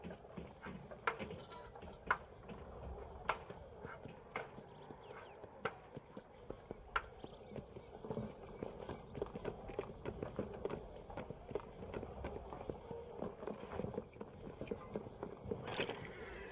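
Hooves clip-clop steadily from horses in the Red Dead Redemption video game, a loose rhythmic stream of sharp knocks running through the whole stretch, moderately close over a quiet outdoor background.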